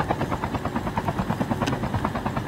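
Helicopter in the video game Call of Duty Mobile, a steady, rapid rotor chop pulsing continuously and fairly loud throughout.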